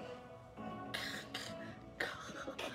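A single soft cough, then a second rougher cough a moment later, fairly close and quiet over faint background hum.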